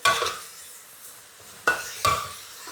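Vegetables and pork stir-fry in a pan, with a spatula scraping and clanking against the metal in a few distinct strokes separated by quieter pauses, close and moderately loud.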